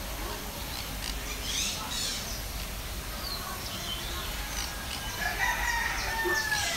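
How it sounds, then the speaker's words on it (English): A rooster crows in the distance over steady outdoor background noise at a bird park in Singapore, with faint clucking and other bird calls. "It's so funny to hear a rooster here."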